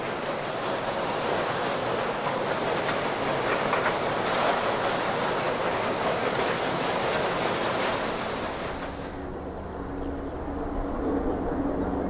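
Steam locomotive 6024 King Edward I hauls a train at speed between London and Bristol, a dense, steady roar of wheels and exhaust lasting throughout, with the sound thinning out near the end.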